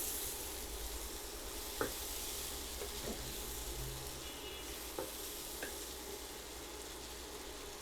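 Garlic and ginger paste cooks in a pan for chicken kosha, a faint, steady sizzle under a low background hum, with a few light clicks of stirring.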